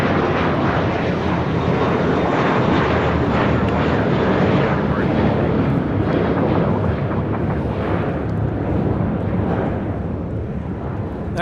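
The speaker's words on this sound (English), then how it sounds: "2201 taking off to JFK on an A321" Airbus A321 airliner taking off at LAX, bound for JFK: a loud, continuous broadband engine roar that holds steady throughout the clip.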